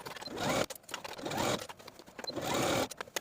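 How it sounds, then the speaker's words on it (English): A home sewing machine stitches bias tape onto a woven tee neckline in three quick whirring bursts, each separated by brief pauses. The mechanical hum sounds close and fairly quiet. "Now I'm going to take this to my sewing machine and sew right in line with the crease in my bias tape"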